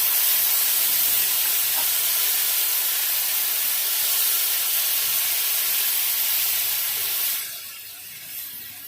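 A loud, continuous hiss as tamarind water hits a hot pan of lightly fried fish fills the clip, then abruptly drops to a quieter simmer near the end.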